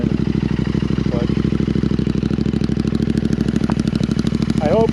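Royal Enfield Interceptor 650 motorcycle fitted with S&S slip-on exhausts idles steadily and close by with a deep, even pulsing throb, while brief voice fragments rise faintly above the engine.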